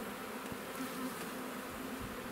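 A steady, continuous insect buzz of honey bees swarming close by at an apiary hive, droning evenly with no voices.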